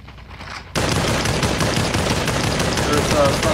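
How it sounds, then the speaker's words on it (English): Sudden burst of sustained automatic gunfire in the VR shooter Population One, starting abruptly after a quiet moment and continuing as a loud, dense rattle. "There's some guys over here shooting at me from before."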